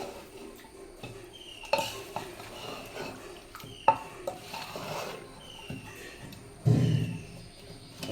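Ingredients being stirred together with salt in a pot, with spoon scrapes and clinks of utensil against metal repeating at uneven intervals, fairly close and moderate in volume, with no talking.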